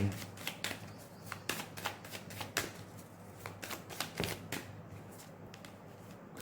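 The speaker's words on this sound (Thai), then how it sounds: "ไพ่สับง่ายนะคะ ให้รื่นนี่เห็นไหม" A deck of tarot cards is shuffled up close, giving quick, irregular bursts of crisp riffling clicks at a soft level.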